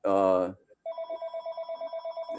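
A landline telephone rings at home in rapid, evenly pulsed electronic trills, fairly clear and steady. A voice speaks briefly just before the ringing starts.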